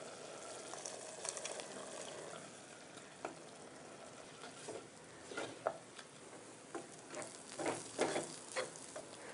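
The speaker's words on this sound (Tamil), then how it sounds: "நேந்தரம் பழத்து மேலே ரொம்ப லைட்டாக இந்த முறுமுறுப்பு வர வரைக்கும் நம்ம வதக்க போகிறோம்" Ripe nendran banana sautés in ghee, with a faint, steady sizzle broken by scattered crackles and stirring scrapes. No one speaks.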